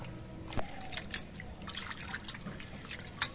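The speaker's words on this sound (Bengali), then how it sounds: "এবার সবজিগুলো ধুয়ে পরিষ্কার করে নিচ্ছি" Chopped vegetables are washed in water, giving quiet splashes, drips and small trickles that come in short, irregular bursts.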